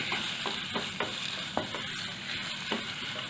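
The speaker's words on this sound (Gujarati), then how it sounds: "સુરણને પણ આપણે મિક્સ કરી લઈશું।" Grated elephant foot yam (suran) being mixed in oil over a low flame, a quiet sizzle with a few light spatula taps and scrapes, close by and without speech.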